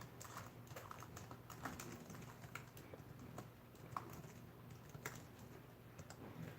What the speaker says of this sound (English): I'm going to type it